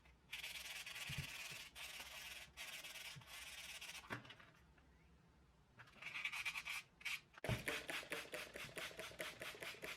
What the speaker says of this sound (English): A little hand sanding with 400 grit took the inside to a comfortable but grippy texture.